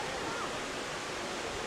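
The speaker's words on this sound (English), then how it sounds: "Got a nice little river flowing," A small stream flows into a pond inside the Eden Project's indoor biome, a steady, even rush of running water with a broad hiss and no distinct splashes, heard alone at moderate level.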